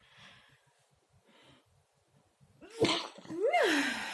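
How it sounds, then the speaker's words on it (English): A quiet sniff or two, then a loud sneeze bursting out, followed by a second strong sneeze close by. "I'm about to sneeze once again, sorry."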